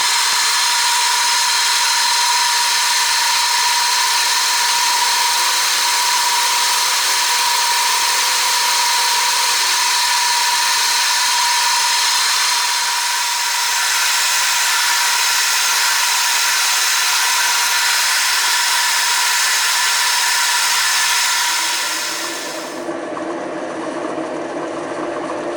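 Steady, loud machining noise as the jaws of a diamond tool holder are cut, a continuous whining drone that holds for about twenty-two seconds and then drops away abruptly, with no talking.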